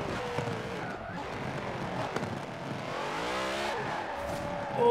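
A car drives and accelerates in the racing video game Forza Horizon 4, its engine note climbing steadily in pitch with a brief tire squeal, close and continuous.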